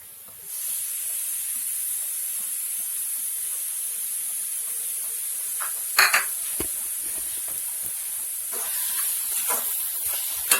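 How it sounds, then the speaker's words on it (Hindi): Desi ghee hitting a hot pan for halwa, a steady bright sizzle that starts half a second in and holds evenly, with a few louder spits and crackles near the end, heard alone without talk. "अब इसमें आप थोड़ा सा घी डालिए, जो हमने घी डाला 2 चम्मच घी वो आपको डालने हैं।"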